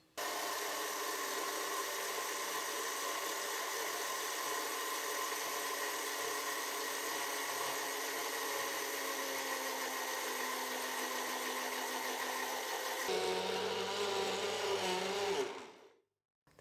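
A blender grinds steadily as oil is poured in little by little to make eggless mayonnaise, a loud continuous whir that changes pitch near the end as the mixture thickens, then cuts off abruptly.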